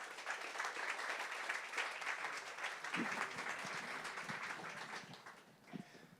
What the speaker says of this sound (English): Give them a big round of applause here